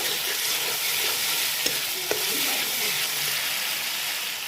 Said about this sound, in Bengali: এই যে মশলাটা আমি ভালোভাবে কষিয়ে নেব